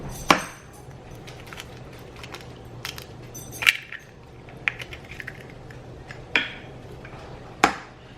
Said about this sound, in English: then we're gonna crack in 2 eggs